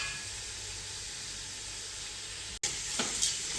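Whole onions, garlic, green chillies and crushed ginger dropped into a hot pot for mutton pulao, giving a continuous dense sizzle and hiss, close and even, with a brief break and faint clinks near the end.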